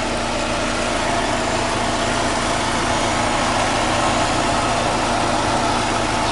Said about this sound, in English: Ecotec VVT engine.